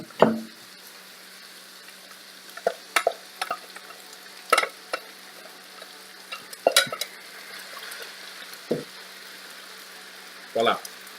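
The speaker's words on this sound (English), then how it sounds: "Using my cover to hold back the beans before dropping it into the pan." Beans dropped into a hot pan of frying chili, with scattered clunks and scraping stirs over a faint steady sizzle.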